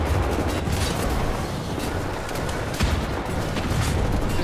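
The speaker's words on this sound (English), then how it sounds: "This dude's shooting at me." Enemy gunfire in Wolfenstein: The New Order, a dense, continuous wash of rattling shots and crackling bursts that stays loud throughout, with a sharper close blast near the middle.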